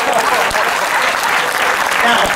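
A live audience at a mentalist's stage reading claps in dense, sustained applause, loud and close throughout the short burst, with voices mixed in underneath.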